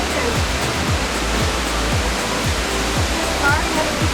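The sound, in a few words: waterfall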